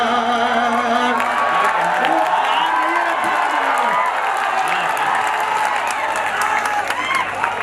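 An audience at an Urdu nazm poetry recital applauds and cheers, with dense sustained clapping and a few whoops, and voices mixed in beneath the crowd.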